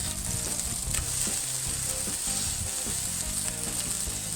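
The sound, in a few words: smash burger patty sizzling after being flipped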